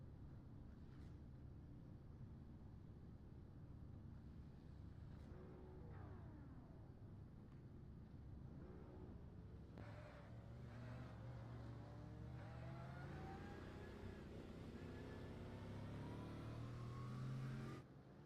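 Race cars in the iRacing video game idle and rumble in a group behind a BMW M2 pace car at Mount Panorama, engines droning steadily with occasional revs rising and falling, continuous and moderately distant.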